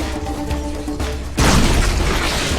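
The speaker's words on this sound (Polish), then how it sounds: "nie wiem co zrobiłem, ale wybuchło" A sudden loud blast erupts partway through a game of Serious Sam 3, its rumbling burst filling the sound and lingering as a dense roar after a quieter stretch of game audio.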